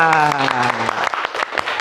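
Schoolchildren in a classroom clapping together on a teacher's cue, a short burst of quick, uneven hand claps close by, with a voice talking over the start.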